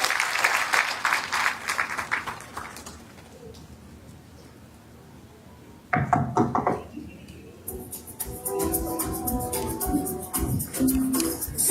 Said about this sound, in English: Is that how we clap?